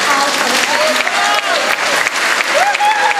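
Sustained applause fills a Catholic church in Chicago as the congregation claps for a visiting children's choir during Mass, with scattered voices and a whoop mixed into the continuous clapping.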